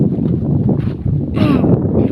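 Strong wind gusting across open farm fields, roaring and buffeting the microphone in a loud, continuous rush for about two seconds, with a brief dip midway.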